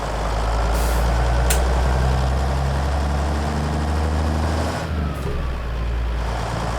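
A heavy truck engine from the ZeeMod N14 Select Plus mod in American Truck Simulator, hauling a pneumatic tanker, drones with a steady loud low rumble, with a brief hiss of air partway through.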